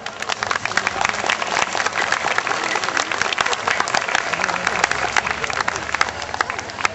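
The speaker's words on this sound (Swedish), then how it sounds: "En stor applåd" Audience applause at a Swedish midsummer celebration, a dense continuous wash of many hands clapping at steady loudness throughout, with some crowd murmur underneath.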